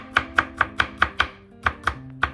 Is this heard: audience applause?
no